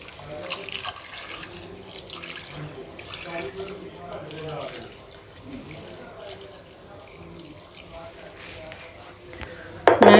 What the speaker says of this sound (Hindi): अब मैं इसमें पानी शामिल कर दूंगी, तकरीबन 2 गिलास के करीब।